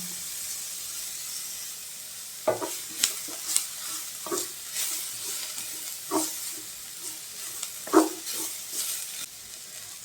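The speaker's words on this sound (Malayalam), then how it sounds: "ഇനി ഇതിലേക്ക് പച്ചമുളക്, ഇഞ്ചി, വെളുത്തുള്ളി, കറിവേപ്പില ചേർത്ത് വഴറ്റാം" Green chilli, ginger, garlic and curry leaves sautéing with bitter gourd in a pan, a soft steady sizzle broken by regular scraping stirs of a spoon, close and clear.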